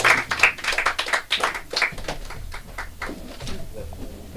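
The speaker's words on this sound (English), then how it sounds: "Hey, round of applause for Sunda," Audience applause for a comedian in a warm LA comedy room, a burst of crowd clapping that is strongest early and tapers into softer scattered claps over a few seconds.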